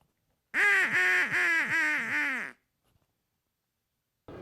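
A loud, close series of nasal, honking quacks from a Nightingale game call, several calls run together, then silence.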